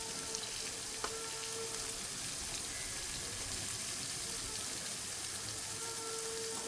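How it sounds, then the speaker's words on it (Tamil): Onions and tomatoes sauté in a pan with a steady close sizzle that holds evenly throughout, alone with no talk. "சரி ஓகே இது நல்லா வதங்கி வரட்டும்."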